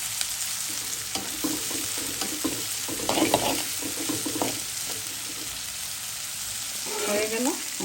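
Bitter gourd fries in a pan, giving a steady close sizzle. A spatula scrapes and stirs in bursts through the middle, and a brief louder rustle comes near the end. Nobody speaks.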